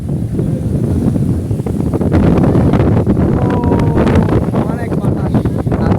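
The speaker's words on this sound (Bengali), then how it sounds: "অনেক বাতাস, তার সাথে অনেক ঢেউ।" Strong wind buffets the microphone at Patenga sea beach while big waves roll and crash, a loud continuous roar with voices faintly mixed in.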